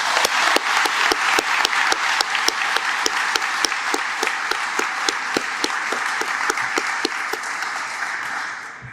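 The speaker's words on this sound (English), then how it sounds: "So please give a round of applause for my classmates." An audience at a firefighter recruit class graduation claps steadily for about nine seconds, a dense, even applause with sharp individual claps standing out near the microphone.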